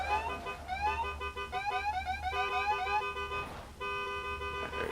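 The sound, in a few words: car horns honking at drag racing qualifying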